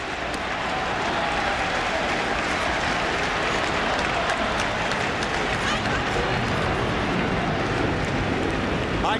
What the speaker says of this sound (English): A "We want Rocker" chant now from this crowd